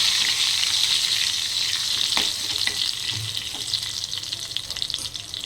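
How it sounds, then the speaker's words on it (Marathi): Crushed garlic and asafoetida fry in hot oil after tempering, giving a loud, steady, close sizzle with occasional crackles and a brief stir partway through. "हा लसूण मी ठेचून घेतलेला आहे थोडासा फ्राय करून घेऊया लसूण"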